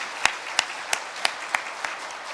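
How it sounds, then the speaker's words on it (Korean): A church congregation claps during a Christmas service, a low wash of applause with six distinct, evenly spaced sharp claps standing out close by. "우리 하나님께 영광의 박수를 드리겠습니다"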